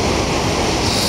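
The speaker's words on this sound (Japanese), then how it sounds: "こんなずっと波打ってますよね" Sea waves surging steadily at Sendai port on a day of waist-to-belly-high surf with strong swell, a continuous broadband wash of breaking water with some wind noise and no distinct individual breakers.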